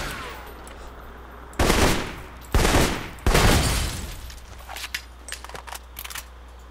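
Gunfire from the video game Alpha Protocol, three loud close shots in quick succession, each with a sharp crack and a short decaying tail, followed by lighter clicks and rattles.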